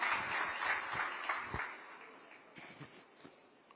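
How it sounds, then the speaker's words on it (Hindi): An audience at a hospital inauguration ceremony in Noida applauds to welcome the state's chief minister. The applause is a fairly quiet, diffuse patter that fades gradually over a few seconds, with no talk over it. "एक बार जोरदार तालियों के साथ पुनः स्वागत है माननीय मुख्यमंत्री जी का।"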